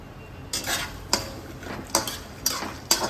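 Peanuts and curry leaves frying in a pan for crispy chevdo, with a metal spoon scraping and clinking against the pan in several distinct strokes over a soft sizzle.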